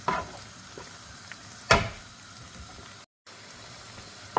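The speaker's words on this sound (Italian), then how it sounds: "rimettiamo il coperchio dopo aver mescolato un pochino e lasciamo così per altri 2 minuti." Frozen prawns and squid cooking in a covered pan after a quick stir, a low steady sizzle and bubbling with a couple of sharp clinks or lid knocks and a brief dropout near the end.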